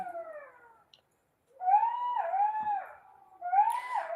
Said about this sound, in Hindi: जे सियारे के आवाज न सुने हो सुन ले